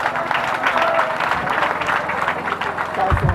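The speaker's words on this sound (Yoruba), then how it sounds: "ẹ pàtẹ́wọ́ fún wọn" Applause from an audience at a gathering honouring a Yoruba traditional ruler and elders: a steady, dense wash of clapping that runs the full few seconds, with voices mixed in beneath it.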